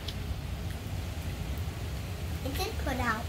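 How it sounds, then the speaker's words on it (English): Rain falls steadily outdoors during a July 4th fireworks outing, a soft, even hiss that stays faint and continuous, with a voice speaking briefly near the end. "Ooh, it's raining."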